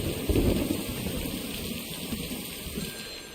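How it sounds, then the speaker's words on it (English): Loud, dense rain hisses steadily on a lake day, with a low rumble early on, continuous and close, with no talking. "Was the rain always that loud?"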